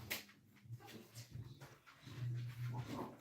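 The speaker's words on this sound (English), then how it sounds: "just sit at the door barking" A dog at a door gives whimpers and short yelps in a cluttered, noisy room.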